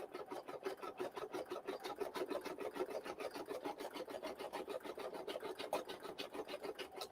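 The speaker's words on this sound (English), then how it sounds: "we're just backing up some stitches so that we can go back over what we were doing" Embroidery machine stitching an in-the-hoop project, a fast, even, rhythmic needle chatter repeating steadily at close range with no talk.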